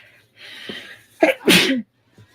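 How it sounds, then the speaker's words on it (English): A single loud sneeze: a sharp inhale builds up, then an explosive burst, close to the listener, followed by a brief quiet breath. "It's going to make me sneeze."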